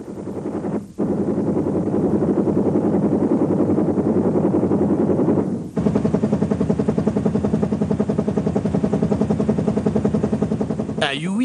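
A Bell UH-1 Huey helicopter fires its flex guns, a loud rapid rattling burst that holds nearly continuous over the rotor drone, with a short break and then a second sustained stream of fire.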